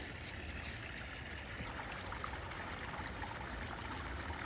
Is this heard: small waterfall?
yes